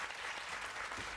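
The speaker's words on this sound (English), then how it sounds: "Hold for applause" A short burst of dense clapping from an applause sound effect, steady and fairly loud across the whole moment, with no voices over it.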